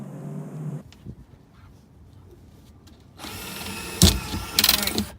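A power drill bores holes into a van, with a whining motor starting after a quiet stretch, then sharper bursts as the bit bites into metal, close by.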